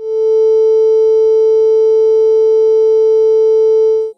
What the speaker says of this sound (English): you'll hear a noise when playing a pure sine tone